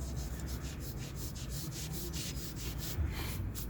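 Cloth wiping excess finish off a wooden coffee table, faint rhythmic rubbing strokes repeating at a steady pace, close by.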